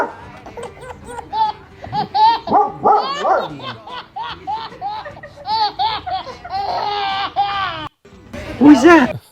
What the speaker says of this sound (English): A puppy and a baby.